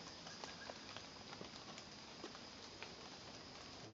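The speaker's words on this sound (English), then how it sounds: "It's rainy at the moment" Steady rain falls continuously, a dense hiss of drops with faint scattered pattering throughout.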